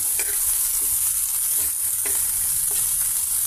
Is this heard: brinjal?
yes